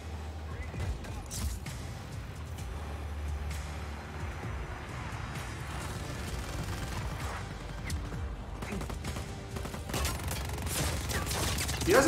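SMG gunfire in the video game Just Cause 4, rapid bursts mixed with clanks and crashes of action, running on over a steady rumble with a voice talking through parts of it.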